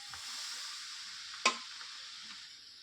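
Mysore pak mixture stirred in a pan over a low flame, with oil added a spoonful at a time, giving a steady soft sizzle and one sharp clink of the spoon midway.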